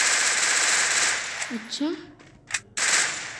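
MP40 submachine gun in the video game Free Fire, fired in rapid bursts at the start and end, crackling and fairly close, with a brief spoken word in the quieter gap.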